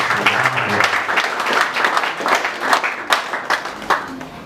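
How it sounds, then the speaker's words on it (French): Audience at a business association meeting in Congo applauding loudly, a dense sustained wash of clapping with scattered sharper claps throughout, fairly close and steady. "Je vous demande encore une fois de plus de pouvoir acclamer très fort."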